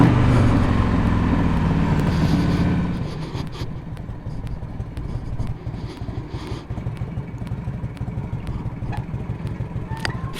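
A 1984 Harley-Davidson FLT Tour Glide motorcycle rides in third gear at about 35 mph, its engine a steady, loud low rumble that drops slightly after a few seconds and continues with road and wind noise.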